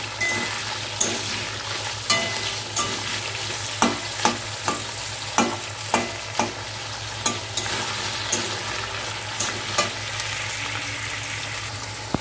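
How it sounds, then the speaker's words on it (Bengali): Onion fries in a pan with a steady sizzle while a utensil scrapes and clinks against the pan in regular, evenly spaced strokes, close and clear, with no voices. "পেঁয়াজটা দিয়ে তিরিশ সেকেন্ডের মধ্যে নেড়ে চেড়ে নিয়ে"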